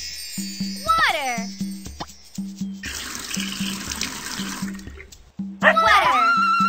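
Water pouring onto plants in the Dora's Magical Garden game, a cartoon splash in the middle of the clip between chiming effects and a voice.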